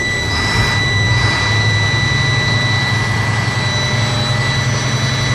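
Truck engine revved steadily between 1,000 and 1,500 RPM to build air tank pressure during a pre-trip inspection, a loud continuous drone with a constant low rumble and steady high whine, no talking.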